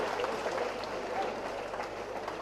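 An audience claps at a bank's centenary celebration, a steady wash of hand-clapping from a hall full of people, moderately distant and even throughout without any voices over it.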